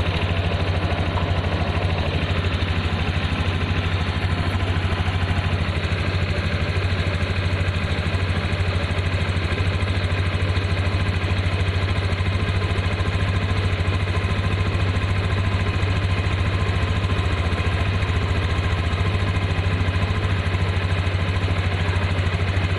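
A new 2021 Honda Scoopy scooter idles steadily at about 1600 RPM, a constant low engine hum with faint mechanical clatter, close and continuous with no talking.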